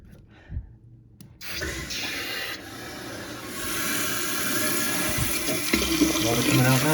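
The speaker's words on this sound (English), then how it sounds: "Water coming out now." Water runs steadily from an apartment tap after a repair of a missing screw, starting with a sudden gush and then flowing continuously as a broad hiss, with a few faint handling knocks early on.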